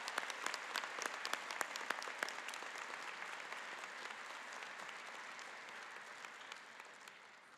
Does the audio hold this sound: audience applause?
yes